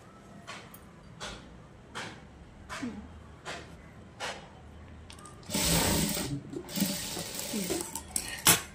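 Tailoring-class sewing machine stitching a boat-neck blouse seam, first as a row of short regular clicks and taps as the needle is set, then a louder close run of stitching with irregular bursts.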